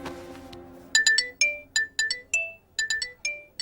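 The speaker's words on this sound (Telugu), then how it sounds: "ఇప్పుడు నన్ను ఇది ఫోన్ చేసిందేంటి?" A mobile phone rings with an incoming call, a bright electronic melody of repeated short tonal bursts in a steady pattern, loud and close, after a moment of near silence.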